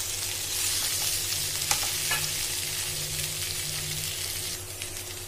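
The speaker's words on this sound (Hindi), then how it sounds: "अब हम इसमें हमारी वेजिटेबल्स को डालेंगे। इसे भी अच्छे से मिक्स कर लेंगे।" Vegetables for chilli paneer sizzle steadily in a hot pan, a continuous moderate frying hiss with scraping stir strokes from a spoon, with a faint low hum from the kitchen behind.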